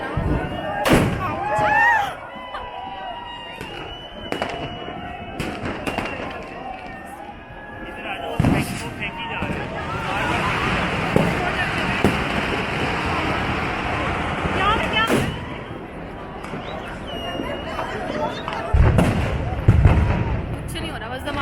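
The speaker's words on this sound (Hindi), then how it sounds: "कुछ नहीं हो रहा, बस धमाके ही हो रहे हैं।" New Year fireworks during a rainy night walk go off as scattered booms and crackles, some close and sharp, others distant and rumbling, over steady rain and street noise, with voices talking now and then.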